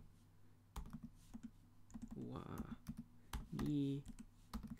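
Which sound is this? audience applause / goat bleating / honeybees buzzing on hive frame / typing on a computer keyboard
typing on a computer keyboard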